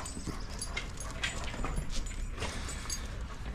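Several dogs play together and growl low and rumbling, faint and fairly distant, with a few whimpering yips over a noisy background.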